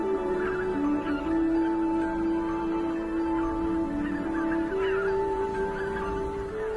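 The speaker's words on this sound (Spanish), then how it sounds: "Inmensas bandadas de gansos en busca de alimentos" Flocks of wild geese, including greater white-fronted geese, greylag geese and Canada geese, gather to rest and feed at a stopover in Poland, their overlapping honking calls carrying steadily under a layer of background noise.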